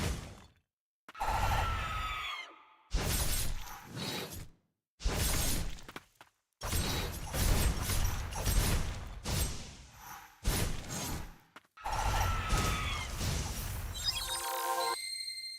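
A loud scream from the video game Detroit: Become Human comes in several harsh bursts with short silent gaps between them, strained and shattering in tone, with no talk over it.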